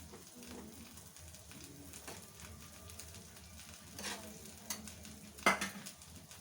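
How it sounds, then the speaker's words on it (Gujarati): Butter sizzling on a griddle as a pav bhaji dosa cooks, a steady low frying hiss with light stirring and scraping, a few sharper utensil clicks near the end, no talking. "હું અત્યારે બટરમાં બનાવું છું"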